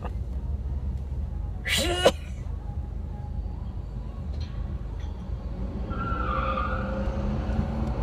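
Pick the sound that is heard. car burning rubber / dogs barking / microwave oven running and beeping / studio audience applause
car burning rubber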